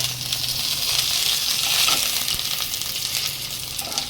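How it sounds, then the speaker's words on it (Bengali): Whole spices dropped into hot ghee in a pan for a Gobindobhog rice pulao give a continuous close, bright sizzling hiss that stays steady throughout, with no voices. "ঘিটা গরম হয়ে গেছে, আমি এখানে এই ফোড়নগুলো সব দিয়ে দেবো।"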